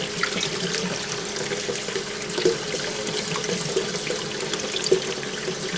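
Kitchen tap running into a sink while tomato seeds are rinsed, a steady close hiss and splash of flowing water with faint small clinks, continuous with no speech.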